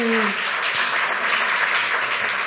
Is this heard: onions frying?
no